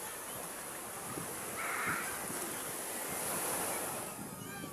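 Sea surf rolls in at crowded Tondaligan Beach, a continuous rushing wash of waves with slight swells in loudness and faint wind.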